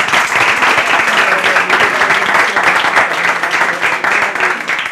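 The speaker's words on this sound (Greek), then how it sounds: "Είμαστε εδώ πάντα με πολύ ωραία μεγάλη παρέα που θα μου δώσει ένα γλυκό χειροκρότημα τώρα." A studio audience at a Greek Easter television show breaks into loud, dense applause, close and continuous from start to finish with no voices over it.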